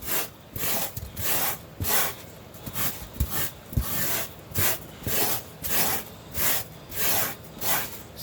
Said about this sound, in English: come back with your sandpaper or your sanding block. And I usually turn it like this because they're going to be wheel ruts